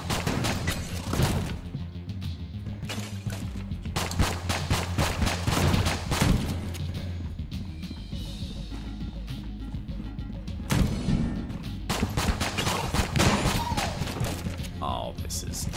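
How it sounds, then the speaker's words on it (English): The Unfinished Gun firing in Enter the Gungeon, a long run of rapid, sharp repeated shots in irregular bursts, with a person talking over the shooting throughout. "Let's use the unfinished gun."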